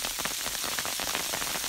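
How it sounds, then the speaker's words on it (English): Ice pellets pelt down on a high-elevation mountain trail, a dense, steady patter of rapid small hits close by. "I'm up pretty high now and I'm being pelted with ice."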